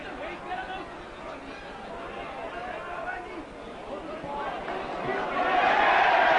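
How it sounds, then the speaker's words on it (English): Home crowd at a rugby match between Neath and the All Blacks in 1989, a broad stadium roar of cheering that builds and grows louder toward the end, with a commentator talking over it. "the referee's decision greeted with jubilation by the home crowd"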